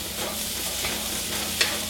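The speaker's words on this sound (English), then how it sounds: "Then they're getting their cook time, and you can add your peppers. Same thing with the peppers. You gotta stir them." Peppers stir-fry in a hot pan, sizzling steadily and loudly up close, with a short clink of stirring near the end.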